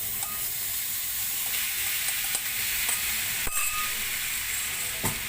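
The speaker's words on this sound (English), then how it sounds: "So first brown our beef." Beef cubes brown over medium flame in a hot dry pan with no oil, making a continuous steady sizzle and hiss with a few brief clicks and clatters.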